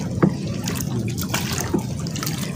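River water flowing near Barangay Sabang during a night crab-hunting trip, a steady close trickling and burbling wash with small splashy drips, running on its own without talk.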